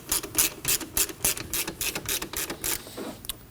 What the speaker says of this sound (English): And we can start to tension the belt.